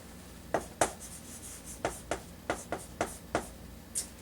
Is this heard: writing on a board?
yes